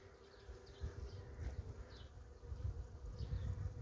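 Honey bees of a Flemish colony drone steadily at an open hive, a dense continuous buzz with individual bees whining past close by.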